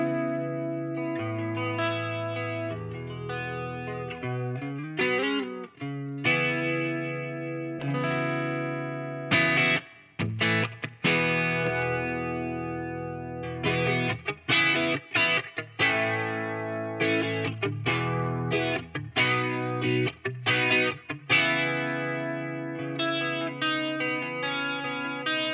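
Electric guitar run through a WA-C1 chorus and vibrato pedal, playing sustained chords and melodic lines with a shimmering, wavering modulation. Strums and phrases repeat steadily for the whole stretch, loud and close, with brief gaps between passages and no talking.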